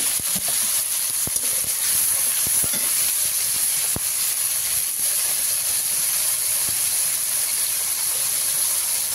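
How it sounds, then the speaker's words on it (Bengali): Water added to tomatoes frying in a pan gives a loud, continuous steaming hiss and sizzle with scattered pops and crackles throughout, close and without speech. "একটু জল দিয়ে দিচ্ছি। টমেটোটা মানে ভালো বলা হবে।"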